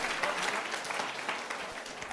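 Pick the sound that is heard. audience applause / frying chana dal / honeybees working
audience applause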